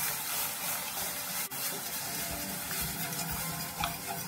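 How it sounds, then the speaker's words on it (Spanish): A milk and flour sauce is stirred in a pan with a steady bubbling, sizzling wash and scraping movement, close and continuous, with no speech. "Sigo removiendo."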